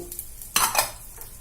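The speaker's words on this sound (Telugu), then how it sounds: "స్పూన్ ఆయిల్ వేసుకొని ఇందులో ధనియాలు, శనగపప్పు," Coriander seeds and chana dal dropped into a pan of hot oil: a brief stirring scrape and a quick rising sizzle, close and fairly loud, lasting about a second.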